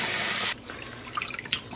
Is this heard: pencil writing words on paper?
no